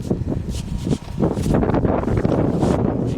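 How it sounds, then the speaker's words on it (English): Strong gusts of wind buffet the microphone in Guryong Village, Seoul, roaring and rumbling in uneven surges with no clear speech. "Very windy."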